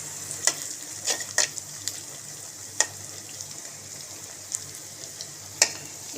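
Snake gourd frying with egg in a pan makes a soft background sizzle, broken by sharp, scattered clicks and scrapes, about ten over a few seconds, as it is stirred.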